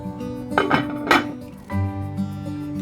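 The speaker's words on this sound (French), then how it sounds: "Et après cela, je vais tout simplement couvrir ma marmite." A cooking pot is covered with its lid after bissap has been poured in, giving a couple of close metallic clinks and scrapes followed by a short low thud as the lid settles.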